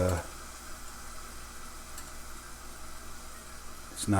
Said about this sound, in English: And we're just going to saute those up